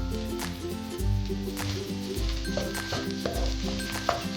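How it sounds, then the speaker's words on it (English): Rice stir-fried in a pan with scrambled eggs hisses and sizzles under repeated scraping stirs, set against steady background music. "Add in the rice and stir fry."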